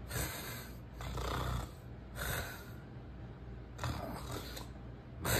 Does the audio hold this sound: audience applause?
no